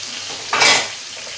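Ground spice paste hits hot oil in a pan after popped mustard seeds, giving one short burst of sizzling and stirring, close and clear against a quiet background.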